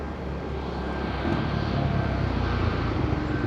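A jet aircraft at Madeira Island Airport gives a continuous broadband engine roar that swells slightly louder partway through, steady and fairly close, with no talk.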